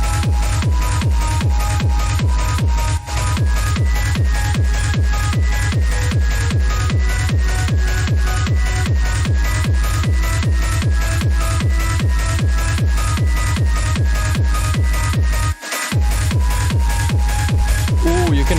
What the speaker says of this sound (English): you can hear the limiter